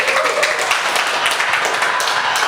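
A live audience at a talk-show taping claps in a dense, steady wash of applause that lasts the whole stretch, loud and close, with no voices standing out above it.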